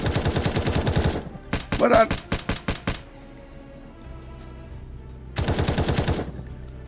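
Rifle gunfire in the video game War Tycoon: rapid automatic bursts of sharp, loud shots in quick rhythmic strings, a pause, then another fast burst.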